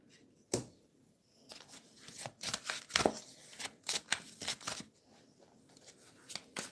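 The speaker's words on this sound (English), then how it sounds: "I feel like I'm being sneaky if I shuffle the cards behind" Tarot cards shuffled by hand close up, a run of quick papery riffles and slaps that starts with one sharp snap and then carries on in bursts with short pauses between them, with no voice over it.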